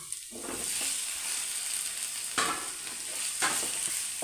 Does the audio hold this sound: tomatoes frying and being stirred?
yes